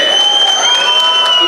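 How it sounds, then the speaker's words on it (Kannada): Brief applause and crowd noise at a film press meet for the Kannada movie Alpha, a dense continuous clatter of clapping close by and filling the whole moment. "ಅದಕ್ಕೆ ನಾನು ನನ್ನ ತಂಡಕ್ಕೇ ಒಂದು ಚಪ್ಪಾಳೆ ಹೊಡಿತೀನಿ"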